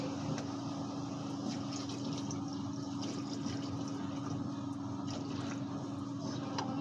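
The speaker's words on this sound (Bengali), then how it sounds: "এই যে পানি দিচ্ছি" Water pours steadily into a cooking pot while meat is being cooked, a continuous rushing, splashing flow at moderate level from start to finish with no talking.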